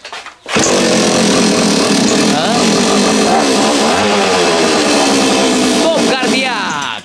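A chainsaw engine mounted on a bicycle starts with a pull and then runs loud and close at a steady high buzzing rev with slight fluctuations, and voices talk over it.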